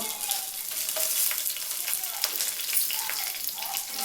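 Dried red chillies of several kinds, Byadagi, Guntur and a local variety, fry in hot oil in a pan for a village-style country chicken curry, giving a soft crackling sizzle with light stirring scrapes.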